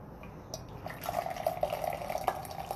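Brewed Ceylon tea from Sri Lanka pours into a cup in a soft, steady trickle that builds after a quiet start, close and fairly faint with no voices.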